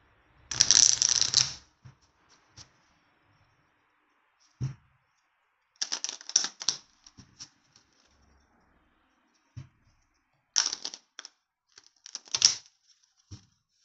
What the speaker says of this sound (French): Attends, on va mélanger quand même